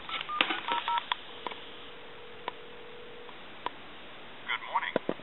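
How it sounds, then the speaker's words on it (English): A touchtone telephone redials, giving off a quick burst of DTMF beeps, a held tone in the middle and another fast cluster of tones at the end, with clicks between them. "give you some dial tone, and then I'm going to hit redial."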